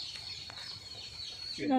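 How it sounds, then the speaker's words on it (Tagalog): Many chickens cluck faintly at a distance on a rural farm against a low background murmur, with a brief louder sound rising near the end. "Daming manok eh"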